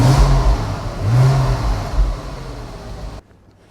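A Porsche 987 Spyder engine revs up twice in strong, loud blips that swell and fall back, then cuts to near silence at the end, heard close with no talking.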